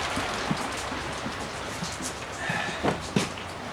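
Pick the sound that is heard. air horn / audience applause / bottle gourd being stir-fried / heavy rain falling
heavy rain falling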